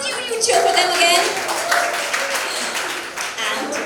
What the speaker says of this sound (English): Let's have a huge cheer for them again.